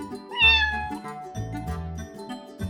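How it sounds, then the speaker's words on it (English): A kitten gives several clear, close meows, one high-pitched cry first and then shorter, lower mews in quick succession, with no one talking. "Kitten."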